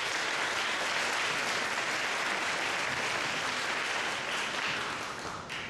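An audience applauds a performer at a live show with dense, steady clapping that fills the whole stretch and tapers off slightly at the end.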